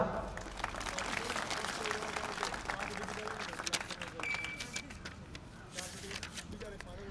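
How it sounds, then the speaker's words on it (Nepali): An audience claps at a speech during a community fundraising campaign event, a dense, sustained patter of many hands heard at moderate distance, thinning toward the end, with voices mixed in. "ताली बज्छ।"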